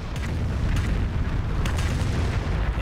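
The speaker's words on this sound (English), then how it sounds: "immediately just drop more artillery on my head." Artillery shells land in the World War II strategy game Company of Heroes, producing a continuous heavy rumble of booms and blasts with no pauses.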